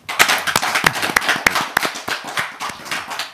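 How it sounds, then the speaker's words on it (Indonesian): Audience applause for Abah Setu at a gathering, a modest crowd clapping near and steady with sharp individual claps standing out, continuing throughout. "Tepuk tangan buat Abah Setu"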